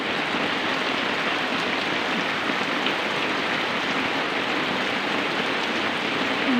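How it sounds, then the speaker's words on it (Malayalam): Heavy rain pours steadily around a house in a green rural setting, a dense, loud, unbroken hiss of drops hitting surfaces with no voices heard. "നല്ല മഴയാണ്."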